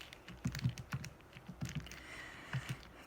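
Quick, irregular key taps on a calculator as an equation is entered, close to the microphone, with short pauses between bursts and no speech.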